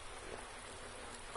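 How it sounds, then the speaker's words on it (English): Rain falls during a Daytona Oval race in a stock-car racing video game, a soft, steady patter under low background noise. "It is raining."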